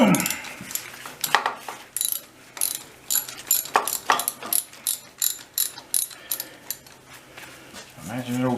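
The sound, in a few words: socket wrench ratchet on an old 300 Utility tractor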